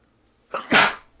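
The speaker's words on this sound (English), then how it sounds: "my apologies for the sneeze there" A person sneezes once, close and sudden, a short sharp intake followed by an explosive burst that fades quickly into quiet.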